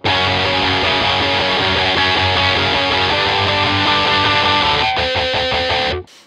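An electric guitar with heavy overdrive distortion plays a grunty, sustained riff, loud and dense, then cuts off with a few choppy muted stabs at the end.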